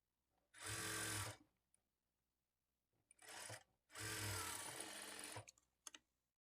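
Sewing machine stitching the shoulder seams of a lined blouse, three runs of steady high-speed whirring and stitching separated by short quiet pauses, close and alone.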